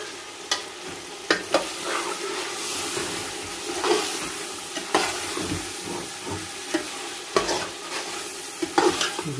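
Masala fries in oil with yogurt for chicken biryani, a continuous close sizzle broken by repeated scraping stirs of a spoon against the pot.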